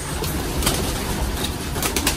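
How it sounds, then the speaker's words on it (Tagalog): Pigeons released from a loft burst into flight with a close, loud flurry of flapping wings, and soft bird sounds mingle with the wingbeats throughout. "ang ating mga kalapati. Yun, nagkumahos agad oh"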